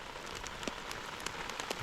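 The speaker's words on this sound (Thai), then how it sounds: "ตอนนี้ฝนตกนะ" Heavy rain with hail pounding down outdoors, a dense steady patter punctuated by distinct sharper drop hits on nearby surfaces, with no talking.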